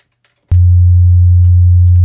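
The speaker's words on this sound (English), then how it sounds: "The sine wave being the purest signal you can get" Pure sine wave test tone from a synthesizer module, switching on abruptly after a short near-silence and holding as a loud, steady, unwavering low hum to the end.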